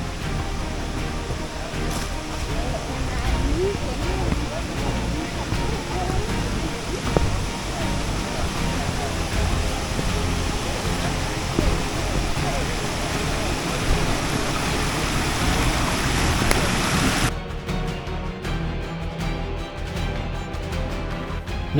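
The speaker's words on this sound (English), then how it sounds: "Namazo waterfall is another waterfall that we came across." Namazo waterfall on Mount Elgon in eastern Uganda roars as a steady, dense rush of falling water, loud and unbroken, its tone changing abruptly near the end.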